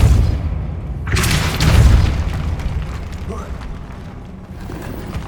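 A Repulsor spell cast in Hogwarts Legacy: a loud booming blast with a rushing burst after a second, fading into a rumbling tail, with a voice heard over the game sound.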